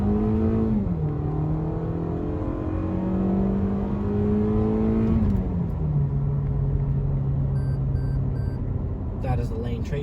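A 2023/24 Toyota Camry SE accelerates hard in first gear with automatic upshifts at redline. The engine drone climbs steadily, drops sharply at each of two gear changes, then climbs again, loud and close inside the cabin.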